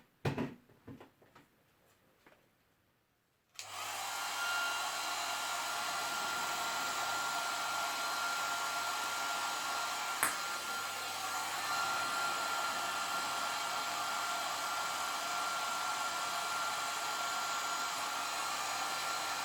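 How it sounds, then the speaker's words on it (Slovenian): A handheld hair dryer switches on after a few quiet knocks and then blows steadily at a ping-pong ball, a loud, close, constant whooshing roar that lasts to the end. "Pa poskusimo, kaj se zgodi, če s fenom piham na žogico."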